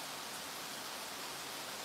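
Heavy rain pours outside in a steady, dense hiss that fills the whole stretch evenly and stays fairly faint, with no voices.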